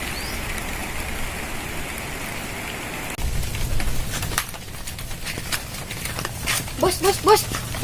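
Rain falls steadily on an outdoor surface as a broadband hiss, with a dog barking a few times near the end and some background voices.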